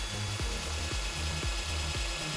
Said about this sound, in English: We're going to drill holes in the handles of these chair dollies